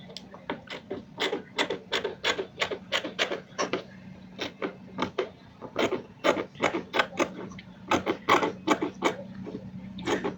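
Scissors cut through dress fabric in a quick run of crisp, rhythmic snips, close and distinct, repeating steadily with short pauses and no talking.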